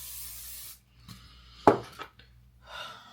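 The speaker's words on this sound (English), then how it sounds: "I will spray this whole bottle of freaking hairspray on it." Hairspray hisses from an aerosol can onto hair in a steady burst that stops abruptly, followed by a few soft knocks and rustles and then a shorter, quieter spray.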